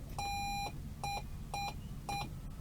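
Morse code letter B: one long beep followed by three short beeps, clear tones over a low background hum.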